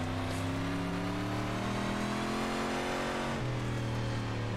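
Big block dirt modified race car engines in iRacing at Williams Grove Speedway, a loud continuous droning roar of several cars at full throttle, pitch dipping as they shift or lift, no talking.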